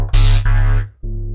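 Synthesizer bass stabs with a resonant filter under velocity control, two long distorted hits followed by a softer, darker one after a brief gap, loud and close with no voices.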